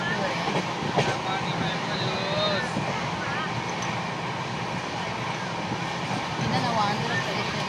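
Steady, loud rattling rumble fills a moving passenger train carriage on the way to Kashi through Andhra Pradesh, with faint squeaks and voices murmuring beneath the continuous roar.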